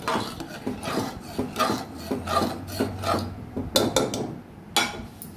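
A spoon scraping and stirring mixed vegetable dal with fried spices in a pot, rough rasping strokes repeating in an uneven rhythm, close and moderately loud.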